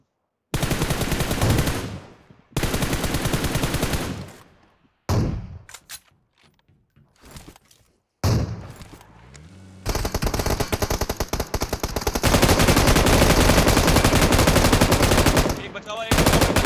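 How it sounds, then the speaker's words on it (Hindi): Bursts of automatic gunfire in the video game PUBG Mobile, long rapid rattling volleys broken by short pauses and single cracks, loud and close with no voices over them. "एक गोली लगी"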